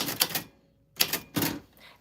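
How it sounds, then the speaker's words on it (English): Names being typed on a vintage typewriter: two quick bursts of sharp, close mechanical key strikes separated by a short pause, loud and clear with no voices. "That is how your names sound on a vintage typewriter"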